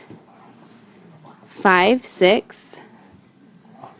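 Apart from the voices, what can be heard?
dog barking and whimpering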